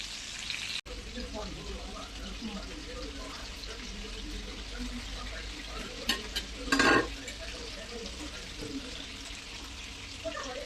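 Stuffed bondas frying in hot oil, with a continuous soft sizzle throughout, a brief sharp click near the start and a louder burst of bubbling a little past the midpoint.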